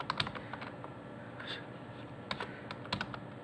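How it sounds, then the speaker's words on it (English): Computer keyboard typing in a quiet room, with irregular clusters of light key clicks across a few seconds, fairly close and moderately soft, and no talking. "Let's go ahead and type that."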